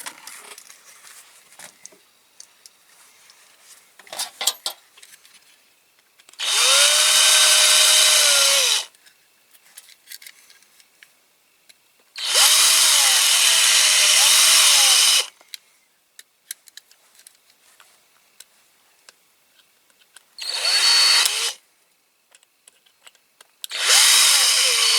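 Close, loud whine of a power drill boring into the base of a Corgi Toys Hillman Imp model car, coming in four separate bursts of a few seconds each with quiet gaps and small handling noises between.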